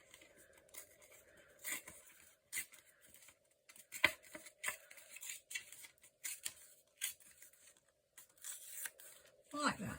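Scissors snip the corners of a rectangle of scrapbook paper in short crisp cuts and rustles, scattered and close, set against faint quiet room sound.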